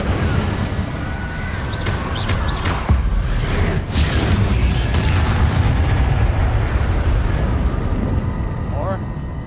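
Incendio fire spell in Hogwarts Legacy, a sustained roaring blaze with booming eruptions and crackling bursts, loud and continuous for several seconds with a sharp flare partway through.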